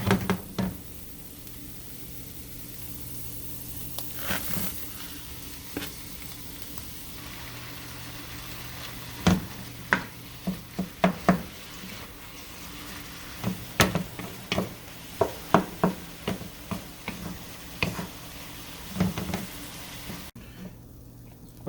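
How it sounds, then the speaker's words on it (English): Ground turkey and chopped onion sizzle steadily in a frying pan, with intermittent scraping and knocking from stirring scattered through the continuous frying noise. "I'm going to put some onion in there, get that a little brown, and we're going to fry up the turkey, get that brown as well"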